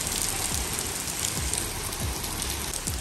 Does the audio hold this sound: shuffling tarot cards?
no